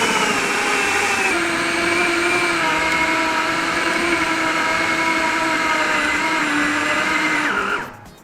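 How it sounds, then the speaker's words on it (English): A food processor blending pounded yam whirs loudly and continuously with a grinding, churning motor sound, then spins down and cuts off at the end. "Just use your food processor."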